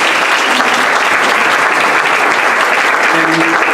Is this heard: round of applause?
yes